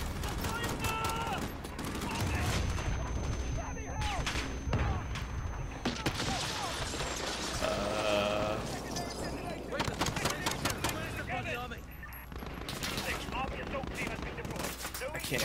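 Gunfire rattles through a Modern Warfare video game campaign mission with cops in a street fight, dense bursts of automatic shots and scattered single cracks under frequent talking from a player.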